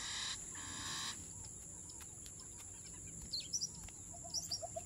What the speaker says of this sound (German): Ach, nur ein Vogel.